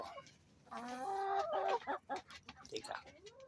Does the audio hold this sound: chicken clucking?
yes